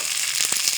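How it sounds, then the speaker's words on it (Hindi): Onions and tomatoes frying in a pan, a steady close sizzle with a few brief louder crackles and stirring bursts near the end. "इसे अच्छे से मिक्स करेंगे और सुनहरा ब्राउन होने तक भून लेंगे"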